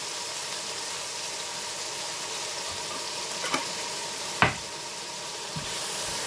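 A dish seasoned with pepper and salt being stirred in a frying pan, a steady low sizzle with a few distinct scrapes and knocks of the spatula, close and without talk.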